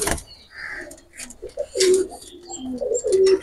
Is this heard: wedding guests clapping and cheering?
no